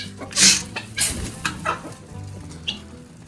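Chickens in a winter greenhouse give a few short, separate clucks and squawks near the listener, with quiet gaps between calls.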